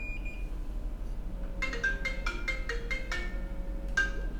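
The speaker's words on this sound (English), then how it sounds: "Ooh, what phone is that?" A phone rings on a repair bench during iPhone 6s backlight work: a rapid series of bright electronic chirps in two clusters, close and clear over a low steady hum, with no talk.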